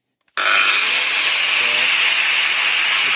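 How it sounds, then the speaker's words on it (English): Power grinder shaping a steel blade for a homemade knife, a loud, continuous abrasive grinding roar starting abruptly after a brief silence and holding steady close up. "Now I'm going to shape this with a grinder because it's what I'm familiar with."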